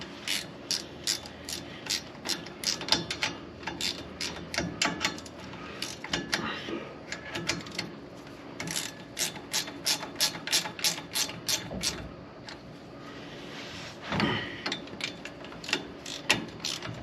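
Ratchet tightening bolts during a rear end swap, quick bursts of sharp clicking strokes repeated in rhythmic runs with short pauses between, close and clear.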